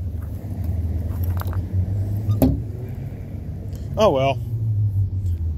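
A 1999 Ford F150 pickup idles with a steady low rumble close by, someone speaking briefly over it, a sharp click partway through and a short whirring squeak near the end.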